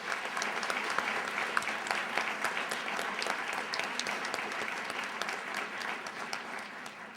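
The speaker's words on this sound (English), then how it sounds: "give another round of applause to our organizing organizations this evening" A steady round of audience applause at an evening abortion debate event fills the room, a dense even wash of many hands clapping at moderate loudness, continuing without pause.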